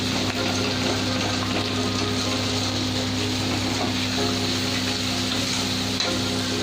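Marinated chicken hitting a pan of fried spice masala in a Bengali home chicken roast, giving a steady, loud sizzle and crackle that holds evenly throughout, with no voices.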